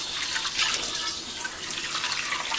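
Tap water at 30 degrees C runs steadily in a continuous hissing stream, close and fairly loud, with no voices.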